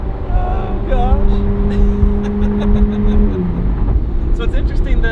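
A loud Ferrari engine with headers revs and drones through downshifts on a country drive, with tonal engine notes shifting pitch under continuous talk from people in the car.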